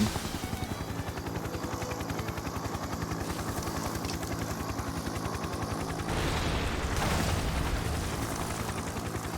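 A police helicopter in the game American Fugitive beats its rotors in a steady, rapid thump, loud and constant, with a rougher surge partway through and no talk.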